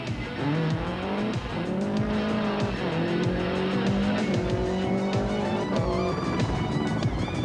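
A 1991 rally car, a Sainz-driven works entry, slides largely sideways at speed through a tarmac stage at Freeman's Bay, its engine roaring loud and close over steady tire squeal with gear-change dips in pitch throughout.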